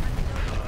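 Heavy, rumbling explosions from an airstrike in the video game Dirty Bomb, a dense continuous roar of blasts close and loud, with a voice speaking over it.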